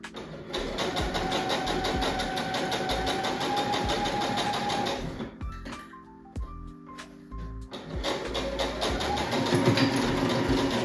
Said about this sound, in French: Et je vais piquer tout ça en machine ensuite.